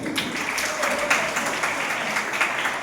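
An audience at a national seminar claps in a dense, continuous round of applause that fills the room at steady loudness throughout.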